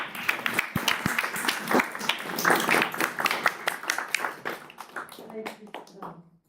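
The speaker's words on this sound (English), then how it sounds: "I'd appreciate everyone joining me in applauding Marie for that effort." A crowd at a council meeting applauding with dense, steady clapping that fades out toward the end, with some voices mixed in.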